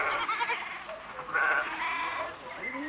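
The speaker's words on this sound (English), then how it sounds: "goat herds drive their flock to their pastures" A flock of goats being driven to pasture by herders near a village, several bleats rising over a narrated voice, fairly close and overlapping.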